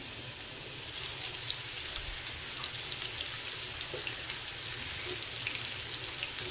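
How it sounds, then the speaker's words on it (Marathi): Masala-coated vaam eel fish pieces fry in hot oil, giving a continuous, even crackling sizzle with faint scattered pops, close by and uninterrupted by talk. "आता मी इथे आपण जे वामला मसाला लावून घेतला होता फ्राय करण्यासाठी ठेवते।"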